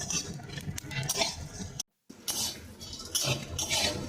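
Whole spices dry-roasting in a dry pan for Korean-style chowmein, stirred with a metal spoon: steady close scraping and light clinks that run continuously, broken by one brief silent gap.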